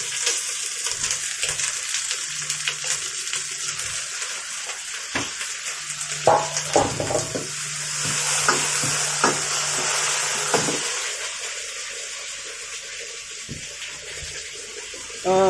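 Pork slices stir-fried with pickled vegetables and minced garlic in a wok, giving a steady sizzle with scraping and stirring strokes throughout, fairly close.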